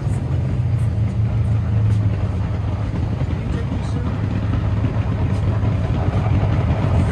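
A yellow Corvette fitted with a big rear wing races an autocross course at a Del Mar shootout, its engine a steady, continuous low roar throughout, with an announcer talking over it.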